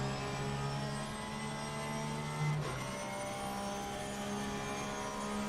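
Racing engine of an Audi GT3 car in a racing video game at Suzuka, a steady sustained drone with a prominent low tone that holds throughout and briefly swells, heard alone without talk.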